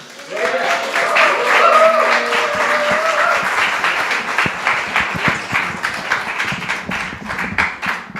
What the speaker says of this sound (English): let's open our hearts and give a big round of applause to Yebony Hannah.